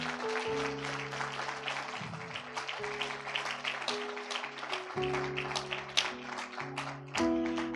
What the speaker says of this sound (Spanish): Dele una ofrenda de palmas al Señor si usted lo cree.